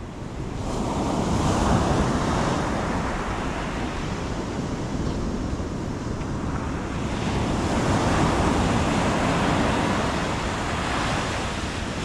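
Atlantic Ocean surf at Rockaway Beach roars steadily, with broad washes of breaking waves swelling twice amid wind buffeting the microphone and no talk.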